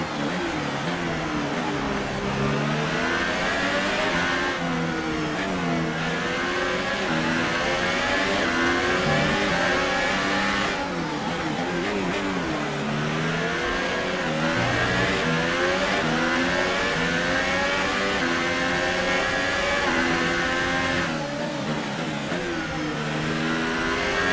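Revving F1 race car engine from the video game F1 2018, a loud, continuous high-pitched whine that rises and falls through gear shifts across the whole stretch, with no talking.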